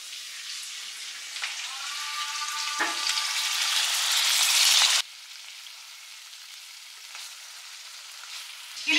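Hilsa fish fries in spiced masala, the sizzle building steadily to a bright crackle, then abruptly dropping to a much softer hiss, with a brief stir near the end.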